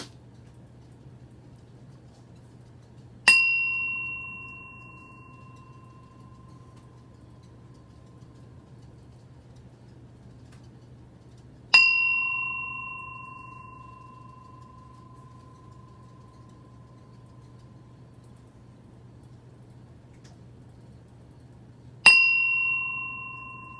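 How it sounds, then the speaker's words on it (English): A meditation bell rung three times at slow, even intervals, each strike bright and clear with a long ringing decay into near silence over a faint low hum. "So I'm going to ring the bell"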